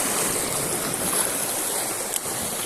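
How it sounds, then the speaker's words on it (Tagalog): Calm open sea water wash, a steady broadband hiss of gentle surf heard close and continuous from a fishing boat, with no talk. "Kalmado yung dagat ngayon"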